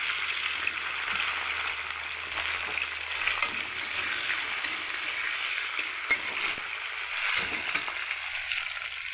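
Chopped tomatoes hit hot oil already holding bay leaf and a whole chilli, a lively continuous sizzle and crackle, close up, with occasional stirring scrapes and no speech.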